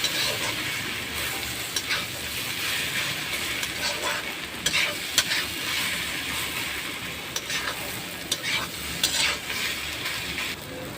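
Khesari greens frying in a pan with ginger and rice paste, a steady close sizzle with repeated scraping stirs of a spatula throughout.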